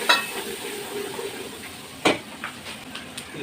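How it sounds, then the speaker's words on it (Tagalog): Garlic and onion sautéing in hot oil for chopsuey make a soft, steady sizzle, broken by a few sharp clinks of a utensil against the pan, with no voices. "Gigisa, golden brown lang natin yung bawang sibuyas para lumabas yung aroma niya."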